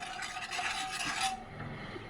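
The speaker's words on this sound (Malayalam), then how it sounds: "ഇളക്കണം തീ കൂട്ടിയിട്ട് ഇളക്കണം" A spoon scrapes and rubs steadily around a pan of cornflour pudding mixture cooking over heat, a continuous close rasp lasting about a second and a half before easing off.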